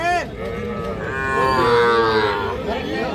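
A young calf or bull at a busy rural cattle market lets out a single drawn-out moo, loud and close, rising and then fading, over a low murmur of market background noise.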